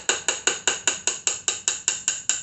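A caster wheel axle tube is gently tapped with a hammer: about a dozen crisp, even metallic knocks, each ringing briefly before the next, close and with no voices.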